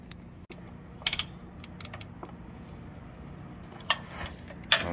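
Quiet, scattered clicks and ratcheting taps as a number 10 wrench snugs a plastic oil drain plug on a Dixie Chopper mower, a few sharp metallic knocks rising above a soft background hum.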